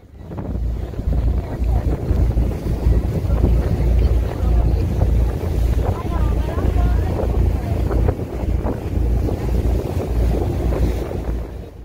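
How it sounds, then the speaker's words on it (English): Strong wind roars across open water off California, buffeting steadily with the slap and wash of choppy waves throughout. "Very windy out here today."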